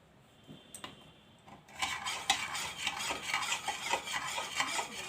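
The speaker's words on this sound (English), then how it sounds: "And mix it well." Salt and sugar are stirred into lime juice, with a spoon clinking and scraping rapidly against a glass or bowl, close and brisk after a quieter start.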